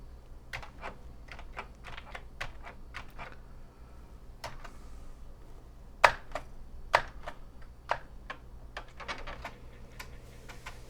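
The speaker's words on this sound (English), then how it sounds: "Got to be a little firm with the keyboard." Typing on the keyboard of a breadbin Commodore 64: a steady run of firm, close key clacks in irregular bursts, with a few louder sharp strikes, over a low constant hum and no talk.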